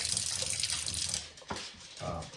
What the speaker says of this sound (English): Probably make a little noise there from the sink.